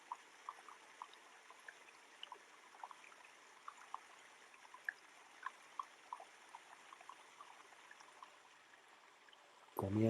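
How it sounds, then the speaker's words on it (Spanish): A river flows steadily, a faint, even wash of water with scattered small trickles and drips throughout, quiet and distant, ending with a brief loud thump. "escucho atentamente el eco estrepitoso del río"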